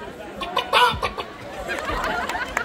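A man imitates a hen clucking with his mouth at a live comedy event, a burst of throaty clucks and squawks around the first second, followed by busy crowd murmur and laughter.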